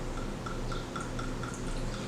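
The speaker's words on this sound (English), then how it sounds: "Okay, a good amount is pouring." Sangria ingredient poured into a glass, a soft continuous liquid trickle with faint fizzing and dripping, steady and close, with no talking.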